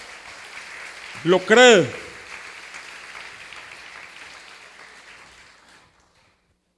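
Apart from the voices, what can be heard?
congregation applause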